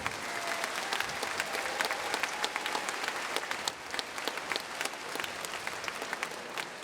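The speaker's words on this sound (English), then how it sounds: "Give another round of applause to the 8th grade band." Sustained applause from an audience at a school band festival, dense steady clapping that fills the whole stretch with no voices standing out.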